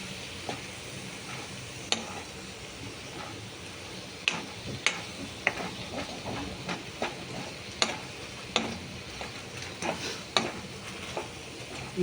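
Mushroom dosa filling being sautéed in a pan, a soft, steady sizzle broken by irregular sharp clicks and scrapes of a utensil stirring against the pan, fairly close and without talk.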